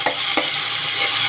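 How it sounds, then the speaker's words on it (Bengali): A spice masala for a papaya dish sautés in a pan with a steady, fairly loud sizzle, marked by two quick spatula scrapes near the start, close by and with no talking. "নেড়ে চেড়ে দিয়ে একটু কষিয়ে নেব"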